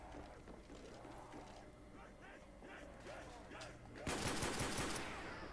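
Rapid gunfire in the Call of Duty Zombies map Shi No Numa, faint bursts under a low game ambience at first, then a loud sustained volley near the end.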